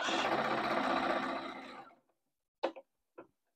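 A sewing machine runs a steady stitching seam along upcycled denim for a quilt, close and continuous for about two seconds before stopping, followed by two short mechanical clunks.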